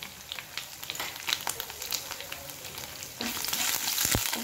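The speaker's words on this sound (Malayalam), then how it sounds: "ഇതാ നന്നായി വറവലായിട്ടുണ്ട്." Dried red chillies and curry leaves fry in hot oil for a papaya pickle, a steady close crackling sizzle that grows louder and busier near the end, with a few sharp pops; no one speaks.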